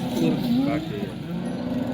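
At the Modnimb cattle market in Maharashtra, a purebred HF cow gives a low, drawn-out moo close by, with market chatter faintly underneath.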